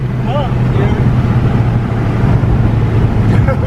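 A catless Subaru WRX engine with a stage 2 tune runs loudly and steadily with a low droning hum and rough noisy texture, revving under wind buffeting.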